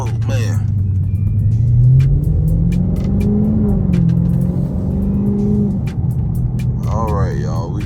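A Dodge Scat Pack with a suspected fault drives along a road, its engine a steady close rumble that swells and eases as it accelerates, with a person talking over it throughout.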